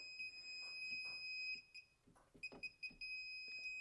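A circuit breaker finder's high electronic tone sounds in short bursts, then holds into a longer, sustained beep near the end, over faint background noise.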